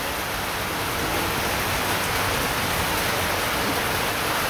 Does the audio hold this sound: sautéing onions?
no